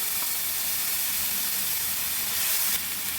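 Ginger, cumin, fennel and onion paste sizzles in hot oil for a Bengali fish dish, giving a steady, loud, hissing frying sound from start to finish with no talking.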